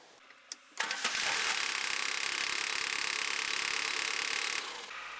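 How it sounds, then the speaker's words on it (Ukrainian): A car fitted with a pulse plasma ignition system cranks briefly after a few clicks, then catches and settles into a loud, steady, close engine run that cuts off near the end. "Зараз я заведу автомобіль і ви почуєте, як він, і побачите, як він заводиться."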